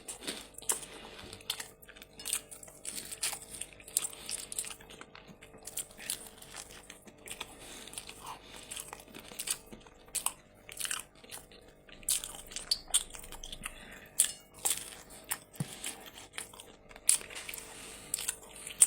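Someone eats a folded slice of pizza, giving soft, scattered crunches and wet chewing sounds up close at an irregular pace, quiet and without speech.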